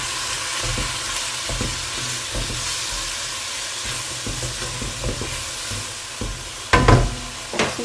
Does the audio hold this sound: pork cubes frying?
yes